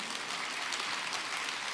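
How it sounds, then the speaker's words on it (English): An audience in a packed auditorium claps, forming a dense, steady wash of many hands that stays even and sustained throughout without any voices standing out. "Everybody is clapping."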